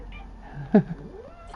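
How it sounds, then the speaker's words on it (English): A cat in Planet Zoo gives one clear, fairly loud meow with a rising, drawn-out tone, set against quiet room noise. "Yes, cats, I can hear you."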